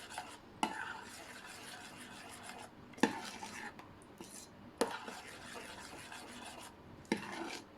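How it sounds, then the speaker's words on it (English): Chocolate fudge sauce stirred in a pot, a steady scraping rasp of spoon against pan with a few sharper knocks, close and moderately quiet, no talking. "just stir that around"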